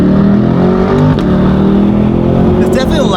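A Corvette C8 fitted with a $10,000 titanium cat-back exhaust revs loudly up close, a dense, steady engine roar that holds throughout the short burst.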